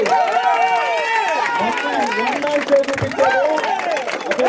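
Crowd clapping for a player at an outdoor volleyball match, steady applause of many hands under a loud announcer speaking over a PA system with echoing voices.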